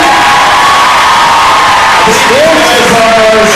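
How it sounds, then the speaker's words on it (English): A convention audience at a Dallas FanDays Q&A cheers, whoops and applauds for a costumed garrison group, a loud, packed roar of voices with shouts rising above it, close and continuous throughout. "let's give a round of applause for our North Texas 501st Garrison"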